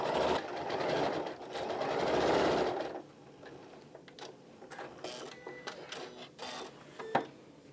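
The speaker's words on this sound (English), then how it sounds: "I'm sewing the last side, and I'm going to make sure that I leave at least 6 inches open." A sewing machine stitching the last side of a tufted floor pillow, a steady fast whirring run for about three seconds, then it stops and only small handling clicks and taps follow.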